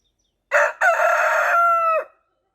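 A rooster crows once inside a chicken coop, a loud, close cock-a-doodle-doo that opens with a short note and then a long drawn-out call, with no talking and silence on either side.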